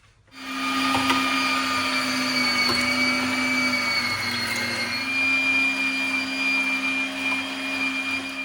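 An electric grinder runs steadily, mincing fatty pork neck meat with onion, a loud continuous motor whine with a slight strain midway, alone with no talk.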